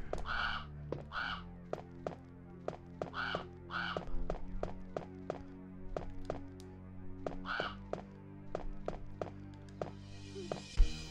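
Crows caw in the Biohazard (Resident Evil) video game, a series of harsh calls spread across the scene over regular thudding footstep-like taps, fairly close and steady.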